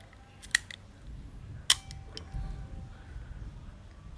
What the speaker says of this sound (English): The shutter works.